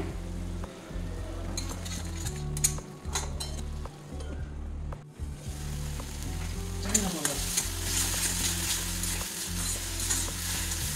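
Steady frying sizzle of spice paste and salt in a pan, a spatula stirring and scraping, occasional metallic clinks, close and continuous with brief pauses.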